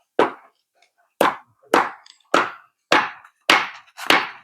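Seven sharp, evenly spaced hammer blows ring out close by with quiet pauses between them, building a walkway to a bathroom.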